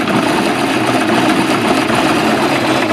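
An outboard boat engine with a carburetor idles in a steady, loud, close drone with a constant buzzing texture and no pauses or talk.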